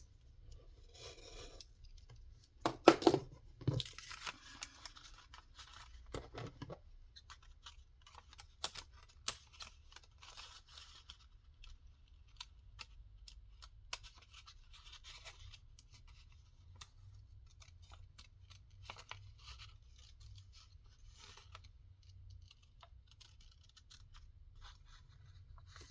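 Scissors cutting a paper mat, with quiet close snips and slicing rasps scattered across the span, a few louder cuts early on, otherwise soft with no talking.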